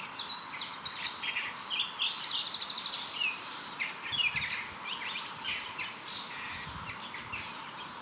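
A forest bird gives soft, high, fluttering trills and chirps at a moderate distance, repeating over a faint background hum, with no voices.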